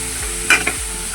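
Onions sauté in a pan until soft, with a short burst of stirring and a spatula scrape over a faint, steady sizzle.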